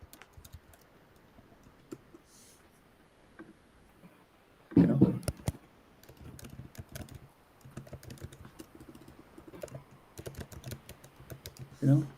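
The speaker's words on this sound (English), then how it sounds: "If if I go and type something in Deep Translate, it will." Computer keyboard typing, a run of quick light key clicks that grows busier and louder partway through, close by under quiet room tone.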